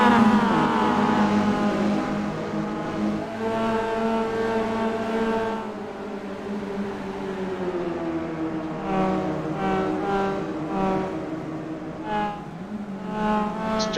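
Roadster race cars battle in a tight pack in the racing game Roadster Rumble: several engines drone and whine loudly, pitches sliding up and down as the cars pass and accelerate, with a short lull midway.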